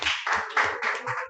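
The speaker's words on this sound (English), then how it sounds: "so clap for that family." Audience at a general meeting clapping for a family, a short burst of several quick rhythmic claps, near and fairly clear, with no talk over it.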